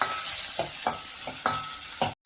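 Tomatoes and onions sauté lightly in a pan for sambar, a soft frying hiss broken by a regular series of stirring scrapes, with a brief silent gap near the end.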